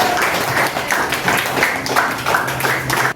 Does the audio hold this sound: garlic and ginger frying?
no